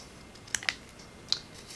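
Scissors cut a paper craft piece in a few quiet, close snips, three short crisp clicks spaced apart against a near-silent background.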